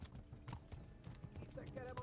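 Horse hooves gallop in the medieval video game Kingdom Come Deliverance, a rapid, fairly soft clip-clop rhythm mixed with game sounds and someone talking over it.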